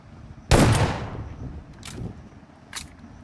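One sharp gunshot from a mobile battle royale game cracks out loud and close, followed by a long echoing tail. Two fainter shots come later.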